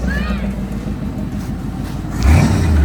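A Jeep engine with two throttle return springs, one about to be removed, idles with a low rumble and then revs up sharply near the end, while a voice is heard faintly over it.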